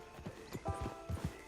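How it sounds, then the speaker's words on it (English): Horse hooves clip-clop in a steady walking rhythm in the video game Red Dead Redemption 2, the rider's mount moving at an easy pace, the hoofbeats close and clear with no talk over them. "Get on the horse when you're ready."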